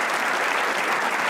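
Steady, dense applause from a studio audience on a comedy talk show, filling the whole stretch at an even level with no voices on top.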